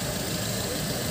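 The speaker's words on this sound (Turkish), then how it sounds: "Mashina yurib turibdi." A car with a Korean engine idles close by in a steady, even rumble with no changes in pitch.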